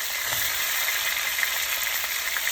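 Beef neck bones brown in a hot pan with a steady, close, loud sizzle, bright and unbroken for the whole stretch, and no voices.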